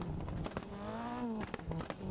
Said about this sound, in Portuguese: Olha o barulho do motor e das marchas, né, sendo trocadas